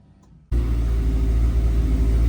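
A Honda B20 engine swapped into an EK chassis fires up abruptly after a brief quiet moment, then settles into a loud, steady rumble heard close by with no talking.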